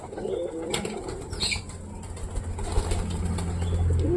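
A racing pigeon wearing a leg ring coos in low, throaty rumbles close by, with quick bursts of wing flapping early on and a sustained coo toward the end.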